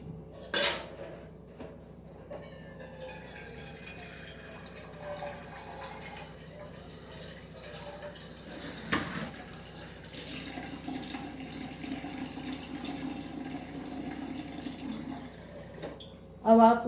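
A pot lid is washed at a kitchen sink with running water, with clinks and clatters of metal against dishes over a soft background, and someone talking intermittently.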